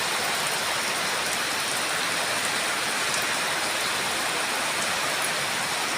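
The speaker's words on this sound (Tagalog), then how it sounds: "Sobrang lakas ng ulan." Heavy rain pours steadily and loudly, a dense unbroken hiss with no voices over it.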